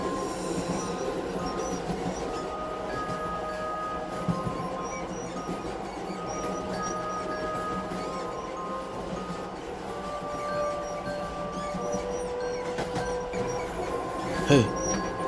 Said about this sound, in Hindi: ट्रेन चलने लगती है।